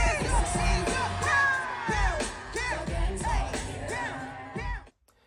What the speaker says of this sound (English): Houston screams!